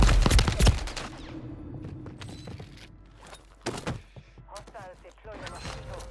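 Gunfire in Call of Duty on Rebirth Island: a dense, loud burst of shots up front, then scattered sharper reports and clanks, with players talking over the game audio.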